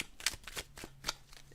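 A deck of tarot cards is shuffled up close, with a quick series of crisp riffling bursts and soft slaps in an uneven rhythm, moderately quiet and with no talking.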